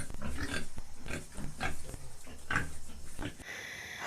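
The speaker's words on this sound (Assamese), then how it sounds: "পোৱালি হৈ আছে গাহৰিকেইটা আৰু ইয়াত আছে" Pigs and piglets grunt and squeal on an Assam pig farm, a busy, continuous chorus of close grunts with brief sharper squeals rising through a steady barnyard din.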